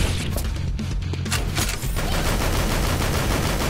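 Guns fire in the video game Dead Or School, a loud dense barrage of close automatic shots that blurs into a continuous roar.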